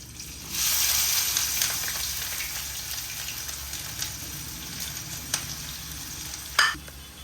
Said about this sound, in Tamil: இப்போது இதை நம்ம இந்த எண்ணெயில் சேர்க்க போகிறோம்.